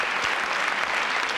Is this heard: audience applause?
yes